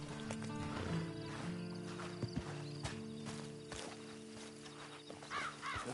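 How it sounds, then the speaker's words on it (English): Horse in a PS4 video game, hooves clip-clopping in an uneven walking rhythm, with a whinny near the end over a low game soundtrack hum. "Then you better get on this horse."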